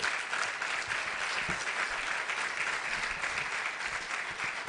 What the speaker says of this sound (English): en demandant que vous applaudissiez encore une fois, et très fort, monsieur le secrétaire